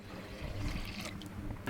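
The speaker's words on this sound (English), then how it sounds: "we add the water together with the flour" Water pours into 00 flour in a bowl as pizza dough is started, a short close splashing trickle with a low gurgle, moderately quiet and without voices.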